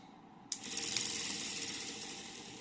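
Washing machine motor switched on again from a bench power supply, starting with a sudden click and then a steady whirring, ratcheting mechanical hum that holds close and fairly even.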